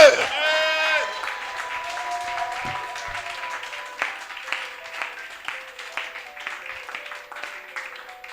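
Congregation at a French-language church sermon applauding and cheering, a sustained clatter of clapping under a raised voice at the start, steady and fairly loud throughout.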